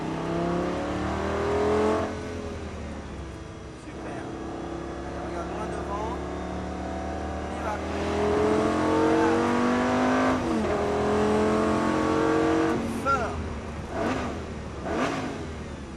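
A Lamborghini Gallardo accelerating hard on a race track during a driving course, the engine howling up through several gear changes with loud rising sweeps and short dips between shifts, while people talk faintly over it.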